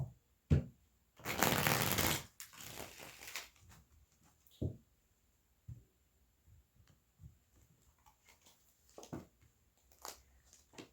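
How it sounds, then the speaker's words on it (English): Tarot cards shuffled by hand, a dense riffling burst of about two seconds followed by scattered soft taps and card flicks, close and fairly loud, with no talking. "So I'm going to pull these extra cards for that purpose."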